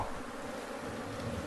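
Bees fly around inside a building, their steady buzzing hum filling the space evenly without pause, with no voices over it.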